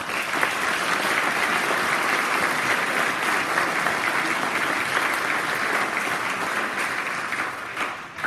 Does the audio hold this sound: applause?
yes